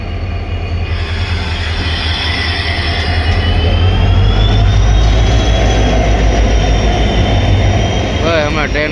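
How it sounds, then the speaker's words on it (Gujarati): A train pulls into Ahmedabad station, a loud, continuous rumble of wheels and rail cars with a high squeal of wheels running through it, building toward the end. "ફાઇનલી મિત્રો તો ટ્રેન આવી ગઈ છે."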